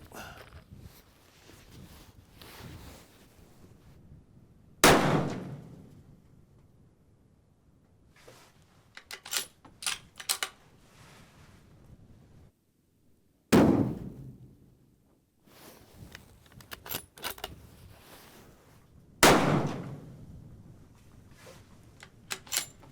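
Three loud rifle shots fired downrange with Hornady Outfitter ammunition ring out several seconds apart in hard wind, each a sharp crack with a booming tail, amid quieter handling clicks and rustling.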